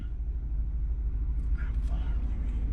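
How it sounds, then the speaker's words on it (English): A 2019 Jeep Wrangler Unlimited's 2.0 turbo engine hums smoothly while driving, a steady low rumble of engine and road noise under the cabin throughout. "the engine is kind of smooth. You hear it, but it's smooth"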